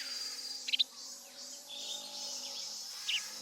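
Birdsong in a jungle setting of the Metal Gear Solid 3 video game: a few short high chirps stand out near the start and again at the end, over a steady insect-like hiss of forest ambience.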